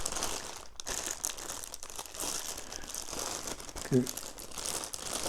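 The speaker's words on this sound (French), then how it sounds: "Donc le casque est en sachet dans un sac plastique" A plastic bag holding a sachet-wrapped JVC Exofield headphone set crinkles steadily and close up during unboxing, with a brief louder rustle near the end, under someone talking.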